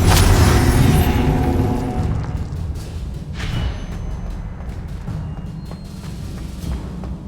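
Confringo explosive spell blast in Hogwarts Legacy: a loud, heavy boom opening the moment, rumbling and decaying over a few seconds, with a second softer burst midway and a low lingering tail, no voices.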